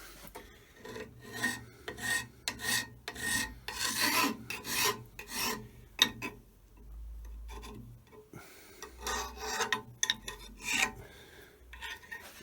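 Rhythmic rasping strokes of a stone or file rubbing burrs off the razor-sharp edge of a blade on an Elliot 14S, repeated scraping passes, close and quiet, with a brief pause midway.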